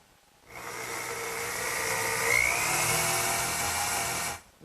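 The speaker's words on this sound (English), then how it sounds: "I've marked out the location where I have to drill the holes. And I'll use a brad point bit" A drill with a 1/4-inch brad point bit bores dowel holes for a drop leaf table, giving one continuous whirring grind for about four seconds, close and steady with no talking.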